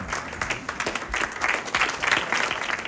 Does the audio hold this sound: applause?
yes